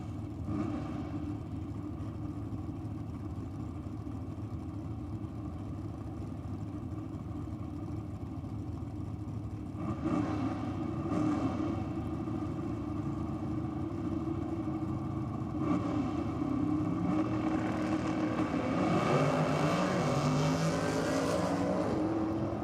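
A drag racing car creeps into the staging lanes at Sydney Dragway, its engine rumbling steadily and loud throughout, with a few short revving hops that rise in pitch near the end.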